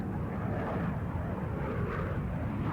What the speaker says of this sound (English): Nose wheel touchdown.